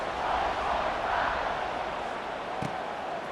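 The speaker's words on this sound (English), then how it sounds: "this crowd is buzzing after that last score" A video game football stadium crowd in SEGA Bowl buzzes after a score, a steady, fairly faint roar of many voices with one brief thump near the end.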